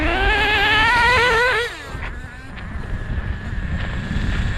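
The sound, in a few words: 1/16 Schumacher Rascal nitro RC car running, kicking up dirt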